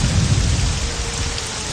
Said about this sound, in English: Now it's raining and everything